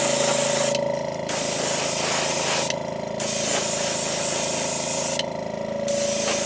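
Airbrush spray hissing in three short bursts while painting a red craw pattern onto a 2.5 fishing lure, close and loud over a steady compressor hum, with brief pauses between passes.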